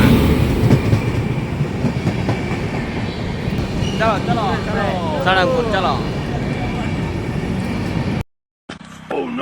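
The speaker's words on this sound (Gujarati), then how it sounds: "ટ્રેન આવી ગઈ દોસ્તો જોઈ શકો તમે" A train arriving at a station rumbles and clatters along the tracks nearby, loud and continuous, with voices talking over it before the sound cuts out abruptly.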